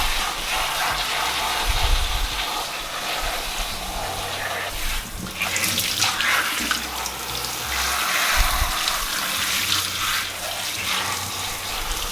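Tap water runs steadily into a sink, splashing as bleaching powder is rinsed out of the knots of a wig, a continuous close gush with brief shifts in flow.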